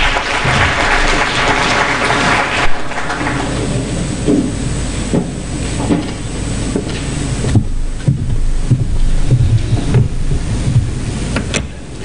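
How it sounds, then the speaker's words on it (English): Audience applause at a formal conference event, a sustained wash of many hands clapping that continues loudly for the whole twelve seconds with a few sharper claps standing out near the end. "One round of applause for her, please."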